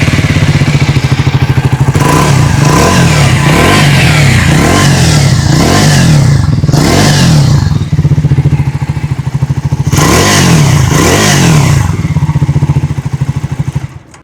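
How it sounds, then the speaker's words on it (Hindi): A 2026 Triumph Scrambler 400 X with a new 350cc engine revs loudly and repeatedly, its exhaust rising and falling in sharp bursts over a steady idle, close to the listener. "आइए अभी सुन लेते हैं इस बाइक की एग्जॉस्ट नोट।"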